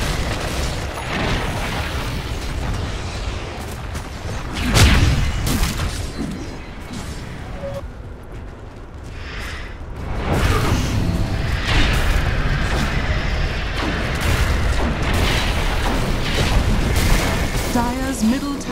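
A Dota 2 tower crumbles with a loud boom and crash amid busy game sounds, followed by continued battle noise and effects.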